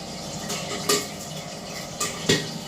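Hot oil pops in a pan with a few sharp, sudden cracks over a low continuous sizzle, heard from a short distance.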